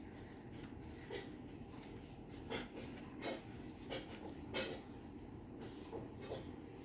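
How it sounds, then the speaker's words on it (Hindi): Handwritten equation being written out during an algebra exercise, a run of short pen scratches and taps in irregular bursts across several seconds, close and fairly quiet with no talk. "तो अब यहाँ हम लिखते हैं समीकरण"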